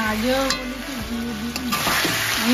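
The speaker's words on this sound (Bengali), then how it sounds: "দেখুন আমার 5 থেকে 6 মিনিট ভালো করে মাংসটা কষানো হয়ে গিয়েছে" Country chicken being sautéed and stirred in a pan for a Bengali roast, with steady sizzling and scraping stir strokes throughout while a voice talks over the cooking.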